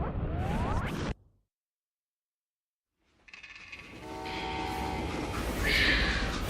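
A stopped train in the Western shooter Call of Juarez: Gunslinger, with a rushing rumble that drops to silence, then returns and builds as a long horn-like whistle sounds and swells near the end.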